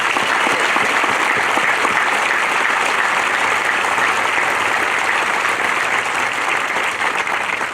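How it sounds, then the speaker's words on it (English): At a cadet summer training graduation ceremony for a regiment's advanced camp, a large audience applauds in a steady, dense wash of clapping that holds at an even, loud level throughout. "So how about a round of applause for that?"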